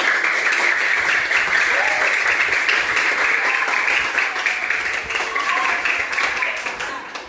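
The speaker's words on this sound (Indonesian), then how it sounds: "Coba beri tepuk tangan dulu untuk semuanya." Dense applause from a crowd, steady and loud throughout, fading slightly toward the end.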